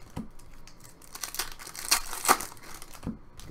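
Packs of Panini Anthology hockey cards being torn open by hand, with crinkling wrappers and several sharp ripping bursts near the mic amid quieter rustling and no talk.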